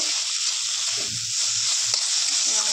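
Cauliflower fries in a pan with cumin, coriander and spice powder, giving off a steady, close sizzling hiss. A faint low murmur sits underneath.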